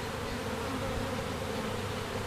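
A swarm of honey bees fills the air with a dense, continuous buzzing drone, loud and close, unbroken for the whole stretch.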